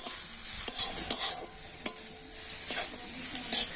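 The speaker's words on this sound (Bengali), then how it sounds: "এখন আমি নারকেলটা তো ঘিয়ের সাথে কিন্তু একটু হালকা করে ভেজে নেব" Grated coconut lightly frying in ghee while being stirred, with a soft steady sizzle and several sharp scraping clicks of the spoon against the pan.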